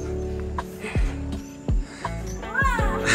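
A cat near the pool shared by the CoCo Pods lets out several short meows in an uneven rhythm, close and clear, with a voice speaking briefly in between.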